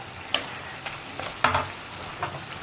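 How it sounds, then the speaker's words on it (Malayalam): Cucumber pieces being stirred into a vegetable pickle masala frying in a pan, with a few distinct spatula scrapes and clicks over a low, steady sizzle, close and without speech. "നമുക്കിതിലേക്ക് നമ്മൾ കട്ട് ചെയ്ത് വെച്ചിരിക്കുന്ന കുക്കുംബർ ചേർക്കാം"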